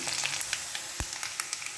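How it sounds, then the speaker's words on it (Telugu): Mustard seeds, dried red chillies and curry leaves sizzle in hot oil for a tempering, a steady close crackle with scattered pops and one soft thump near the middle. "ఎండుమిర్చి కరివేపాకు ఆవాలు అవన్నీ వేసుకొని పోపు చేసుకొని"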